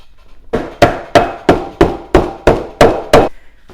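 Eight loud, sharp hammer blows fall in a steady rhythm as a trim piece is driven into a custom center console for a 1967 Plymouth Fury VIP, close up and with nothing else heard.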